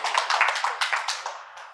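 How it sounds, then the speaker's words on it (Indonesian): A small audience of adults in an accounting class claps in a short, fairly close burst of distinct hand strikes that thins out and fades within two seconds. "Tepuk tangan dong Bapak Ibu"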